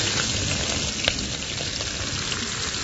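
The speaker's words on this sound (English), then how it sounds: "This first stage is just allowing them to just lightly saute" Prawns sauté in a pan for a prawn curry, giving a dense, even crackling sizzle close up that holds steady throughout, with one small clink.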